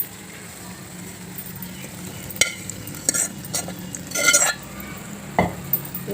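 Coriander powder and garam masala being stirred into a soya chunk and egg curry sizzling in a pan, with spoon scrapes and clatters against the pot over a soft frying hiss, and speech faintly audible.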